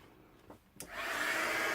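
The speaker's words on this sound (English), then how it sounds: "I'm going in with my heat gun, of course" A heat gun blows hot air to melt chunky enamel embossing powder on mixed-media scrapbook background paper. A couple of faint clicks come first, then a steady, close, loud airy blowing rush starts and keeps going.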